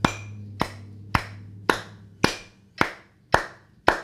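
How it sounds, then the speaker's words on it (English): Single person clapping hands in steady time with a metronome, eight sharp, close, evenly spaced claps about half a second apart, with a low hum under the first few. "try to clap exactly when the metronome happens"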